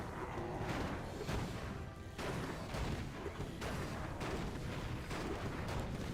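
Warcraft III mortar teams fire artillery in a competitive match, producing a dense, continuous barrage of booming blasts and crashing impacts that stays loud throughout, with no voices.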